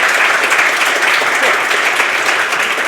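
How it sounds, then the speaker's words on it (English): Dense, steady applause from a conference audience honoring speaker Ferruccio Balestreri after his talk, loud and continuous throughout with no break. "let's give another applause for Ferruccio"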